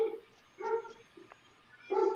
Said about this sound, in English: Dog's loud as fuck.